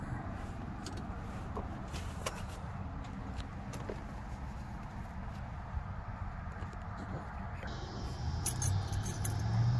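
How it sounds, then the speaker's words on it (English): Car keys for a 1972 Lincoln Continental Mark IV jangle and clink close by in short metallic bursts over a low steady background rumble. "Find the keys."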